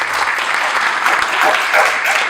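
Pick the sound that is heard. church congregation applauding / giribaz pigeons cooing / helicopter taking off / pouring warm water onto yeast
church congregation applauding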